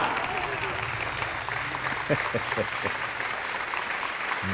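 Audience applause at a school marbles competition, a steady wash of clapping from a crowd throughout, with a few sharper claps standing out near the middle and murmuring voices mixed in.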